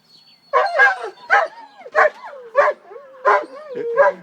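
A dog close by gives a series of about six sharp, whiny barks at a quick uneven rhythm, with yelping, whimpering tones between them.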